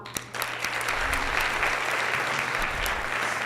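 An audience at a Baldwin Park city event, the State of the City gathering, applauds in a sustained, dense round of clapping that fills the room, steady and moderately loud throughout.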